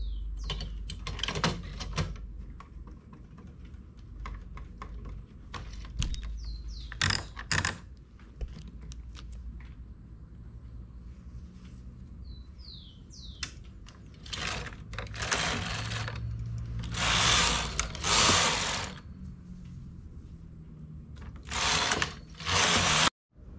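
Home knitting machine with a ribber, knitting many rows in a contrasting-colour yarn: repeated rasping, ratchety carriage sweeps close by, some long and loud, separated by quieter clicks and mechanical shuffling, with no talking.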